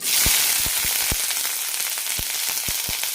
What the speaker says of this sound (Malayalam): പാനിലേക്ക് ഒരു ടേബിൾ സ്പൂൺ എണ്ണ വെച്ചിട്ടുണ്ട് ഇതിലേക്ക് കടകിടാം ഇതിലേക്ക് സവാള ഇടാം